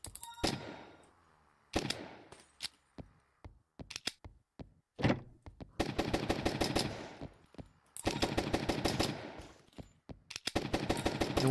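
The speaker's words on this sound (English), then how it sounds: "It's a freaking machine gun." Machine gun fire from an AR in the roguelite game Zombiehood: loud, rapid automatic bursts of a second or two each, separated by short gaps and a few single shots, with no talking over them.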